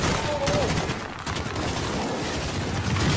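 Dense, continuous gunfire fills a firefight at a residence in Call of Duty: Modern Warfare (2019), shots blurring into a steady rattle with a brief voice line cutting through near the start.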